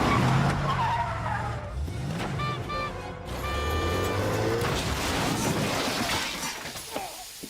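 A car speeding and skidding during a chase in a WandaVision action scene, with loud continuous engine roar, a sharp crash and shattering near the middle, then more driving and tire noise, with no talk.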